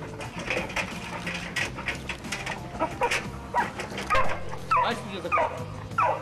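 A border guard sniffer dog barks and yips in several sharp bursts, joined by a few whimpers, fairly close. People talk throughout underneath, with some faint mechanical noise.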